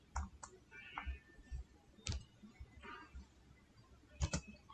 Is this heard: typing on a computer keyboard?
yes